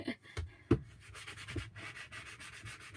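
A sanding block rubs over wooden pumpkin decor in short, uneven scraping strokes, with a couple of sharper knocks early on, close and fairly quiet.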